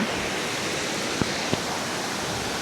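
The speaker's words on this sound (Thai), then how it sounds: "เนี่ยน้ำตกไหลลงมา" A waterfall at Than Lot Noi cave in Kanchanaburi, Thailand, pours down in a steady, dense roar, with two faint short knocks under the constant rush.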